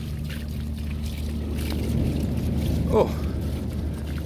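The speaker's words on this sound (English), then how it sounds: "look at all the water coming off the comedy carpet" Rainwater pours and trickles off the comedy carpet on a wet, windy Blackpool seafront, a steady wash of running water under wind, with a voice speaking over it.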